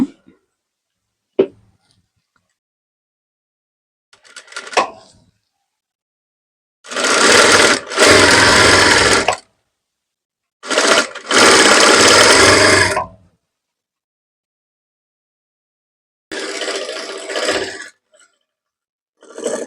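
A sewing machine stitches a blouse, running in several loud, sustained bursts of a few seconds each, separated by silent pauses and a few faint handling clicks, with no talking.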